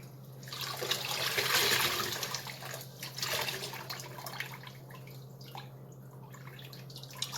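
Jacob wool being squished by hand in a basin of rinse water, with wet sloshing and dripping that swells early and then settles into softer splashes, heard close up with no talking.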